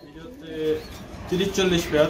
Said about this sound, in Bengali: 50 থেকে 60 পেয়ার কবুতর আছে।